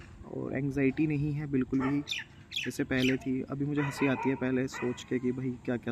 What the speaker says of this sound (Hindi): ये कुत्ते भौंक रहे हैं